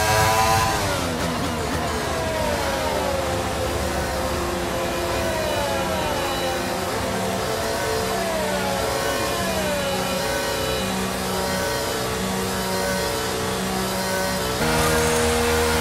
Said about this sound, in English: Now we need to make sure we get a great launch as the race starts.